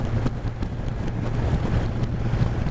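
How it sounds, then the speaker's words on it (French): Steady, loud wind buffets the microphone of a rider on a Big One motorcycle cruising a road at around 95 km/h, a continuous rushing roar with low engine rumble underneath and no talking. "je me prends tout le vent dans la gueule"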